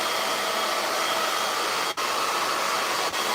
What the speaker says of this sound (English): this blow dryer does not play